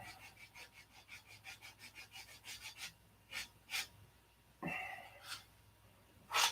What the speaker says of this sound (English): it takes more sanding